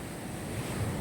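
Sea waves surging against a beach and retaining wall at a resort under construction in San Fabian, Pangasinan, a steady close roar of surf mixed with wind buffeting the microphone, with no voices.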